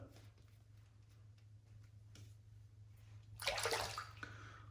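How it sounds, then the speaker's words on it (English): Water is sprinkled onto the sides of a shaving brush in one short, soft splash near the end, heard over a faint steady hum in a quiet room. "So all I do here is kind of just sprinkle water onto the sides of the brush."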